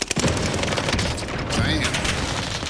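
Rapid bursts of gunfire in a Call of Duty-style gulag fight, loud and close, with dense overlapping shots and booms filling the whole short span.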